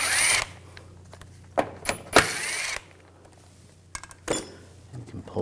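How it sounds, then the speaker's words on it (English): A ratchet with a 10mm socket spins nuts off a shield on a 2007-2013 BMW X5 3.0L, in short close bursts of sharp clicking separated by quiet pauses and faint metallic clinks. "I'm just going to take these two nuts off, use a 10mm socket."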